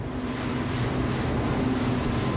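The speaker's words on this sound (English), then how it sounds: "I'm just going through a couple of waves here." A 2017 Axopar 24 T-top boat runs through a couple of waves, with a steady, loud rush of hull and water noise and an engine drone throughout, plus wind buffeting, and no talking.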